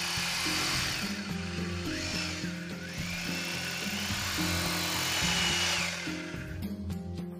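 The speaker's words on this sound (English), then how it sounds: "make holes in the wall using an appropriate drill bit" Power drill boring holes into a wall to fit a water heater mounting bracket, with several bursts of whirring drill motor, rising and falling in pitch, close and clear with no talking.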